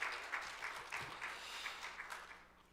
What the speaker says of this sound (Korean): 우리 박수로 한번 하나님께 영광을 돌립시다